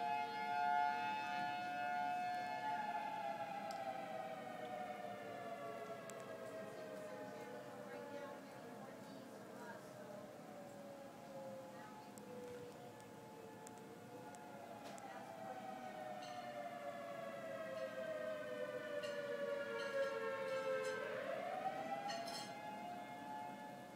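Tornado warning sirens wail in long rising and falling sweeps, heard from a distance outdoors at moderate loudness, with a faint voice now and then beneath them.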